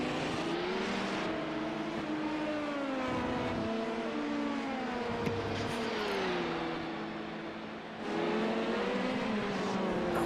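Prototype race cars in iRacing lap Hockenheimring, with several engines whining and shifting pitch as they pass close by, a loud continuous layered drone that briefly eases before surging back.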